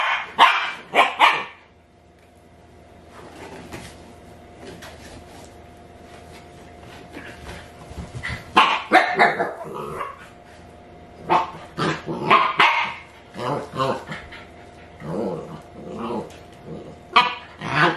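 Husky puppies bark, yip and growl in loud bursts, some close and some further off, with quieter whimpering and growling between the bursts, and no talking.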